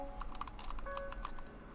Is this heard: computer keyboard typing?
yes